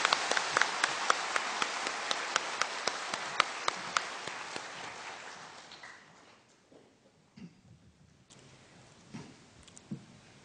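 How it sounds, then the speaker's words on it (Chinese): A hall audience at an evening Buddhist lecture applauds warmly to welcome an elderly Dharma master; dense, steady clapping fills the first half, then thins and fades into scattered claps and quiet room noise. "在这里我们以热烈的掌声欢迎政空老法师和我们开始"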